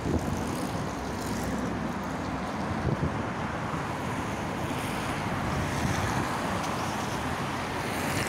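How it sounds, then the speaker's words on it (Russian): Strong wind in Saint Petersburg roars steadily and loudly across the microphone for the whole stretch, a continuous broadband buffeting with no voices. "просто ветер очень сильный"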